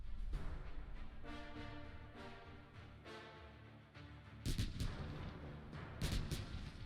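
Unit battle in the Kaiserpunk strategy game, with a steady rumble of artillery fire and gunshots and two sharp, louder volleys near the end, and no one talking.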